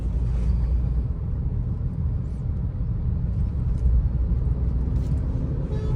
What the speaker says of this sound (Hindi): आगे ट्रैफिक है तो इसीलिए थोड़ा सा स्लो चलनी पड़ रही गाड़ी